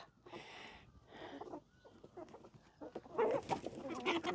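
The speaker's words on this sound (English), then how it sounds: "I think the chickens roost early on a Sunday because their coop is now full here." Chickens settling to roost in a crowded coop on a farm by the Breede River mouth, South Africa, soft clucks and murmurs at moderate distance that grow busier toward the end.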